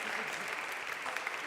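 Audience applause at a live quiz show, a dense steady wash of clapping that fills the whole short stretch without a break, loud and close.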